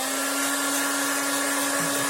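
Hair dryer blowing steadily to dry a drawing, a loud continuous whirring roar with a constant motor hum, close and unbroken, no talking.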